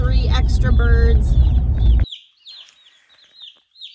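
Meat chicken chicks cheep and cluck loudly in a dense chorus as they are unpacked and counted, then the sound drops away to scattered faint peeps.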